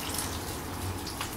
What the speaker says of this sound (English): At this point, we pour in a litre of water